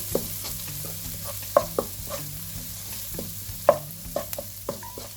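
Chopped chilies, cumin powder and coriander powder stirred into softening onions in a pan: a low sizzle under scattered spoon scrapes and clinks against the pan, with two sharper knocks standing out.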